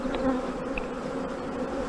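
Honey bees swarm around an opened hive during spring beekeeping, making a close, dense and continuous buzzing hum with no talking.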